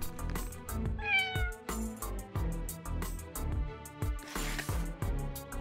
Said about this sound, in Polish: Mam nadzieję, że kot mnie nie zaatakuje.